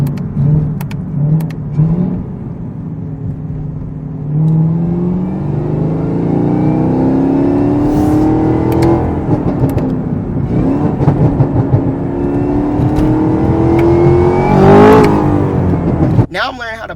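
A car fitted with a Corsa Performance cold air intake revs repeatedly, engine climbing and falling in pitch with an audible intake whine over the exhaust, loud and close, with talk in between.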